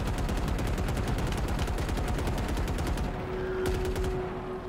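Sustained automatic gunfire fills Halo Infinite gameplay, a loud, continuous rattling stream of shots that thins out toward the end as a few single reports and a faint tone remain.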